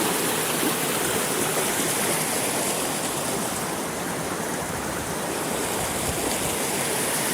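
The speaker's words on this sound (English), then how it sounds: "We got a really neat little chute right here." Water of the Upper Red River roars through a rocky chute in a steady, loud, unbroken rush that fills the whole stretch.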